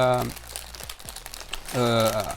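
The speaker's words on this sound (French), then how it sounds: "les sacs Lego, ça fait assez de bruit" Plastic LEGO set bags crinkling and rustling up close, with a voice talking at the start and again near the end.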